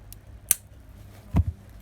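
Scissors cut beading thread at close range. Two quiet, crisp snips come about a second apart against a near-silent background.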